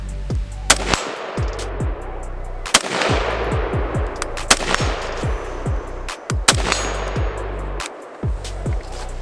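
Repeated rifle shots from a Tavor X95 fired on open sights outdoors, sharp loud cracks in irregular bursts and singles with short echoing tails, mostly rapid strings of fire with brief pauses between groups.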